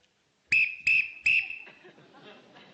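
A lifeguard whistle gives three short, shrill blasts in quick succession, loud and close, followed by faint background chatter.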